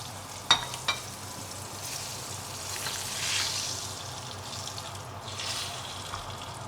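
Steak sizzling in a hot frying pan, a steady soft hiss with a couple of sharp crackles near the start, fairly quiet and without voices.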